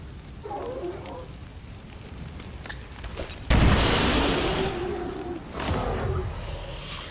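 A loud boom bursts in midway through a noisy XCOM 2: War of the Chosen game soundscape, its rumble slowly fading, followed by another smaller blast near the end.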